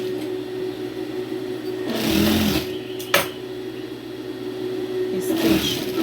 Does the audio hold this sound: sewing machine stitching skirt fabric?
yes